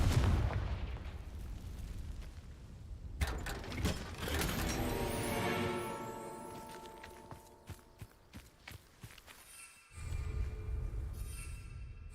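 Hogwarts Legacy Bombarda and Confringo spell blasts erupt loudly, a deep rumbling explosion followed by crackling debris and rattling impacts, then a second heavy burst near the end.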